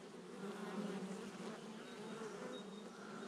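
Honeybees buzz steadily at an open beehive, a close, continuous drone with a few louder individual bees passing near, and no voices.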